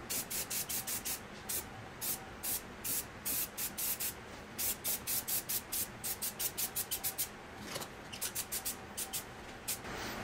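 Rebuilt engine being spray painted with an aerosol can, rapid repeated short hissing bursts in quick succession with brief pauses, close and loud, no talk.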